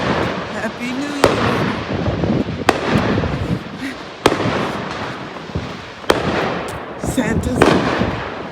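Sharp, loud bursts from neighborhood fireworks crack out at roughly regular intervals on New Year's night, six or so distinct bangs over a steady crackle and rumble, with people talking faintly in the background.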